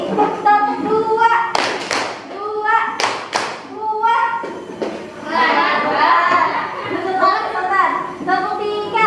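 A classroom of children does rhythmic concentration clapping, with bursts of sharp group claps between stretches of a teacher and kids talking, the claps coming in short sets.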